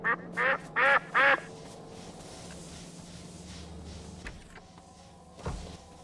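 Four short, loud, nasal duck quacks come in quick succession at the start of a Factorio stream, followed by a quieter stretch of low game hum and a few soft clicks.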